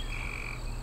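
A frog croaks in a short, steady, buzzing burst that fills the moment alone, clear and close.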